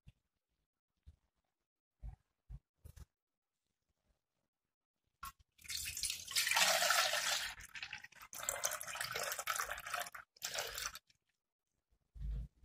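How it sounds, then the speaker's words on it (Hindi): Fresh milk poured into a cooking pot, a few faint clinks followed by a loud, steady splashing pour lasting about five seconds, then a couple of final taps. "हम 3 कप फ्रेश मिल्क लेंगे और डेक्ची के अंदर डाल देंगे।"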